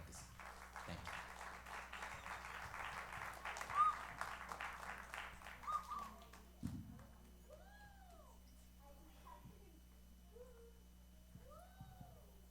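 A hall audience at a Deepavali-Rajyotsava community celebration applauds to welcome two presenters. The clapping is dense and steady for about six seconds, then drops away, leaving a quieter room with a few scattered high squeaky tones.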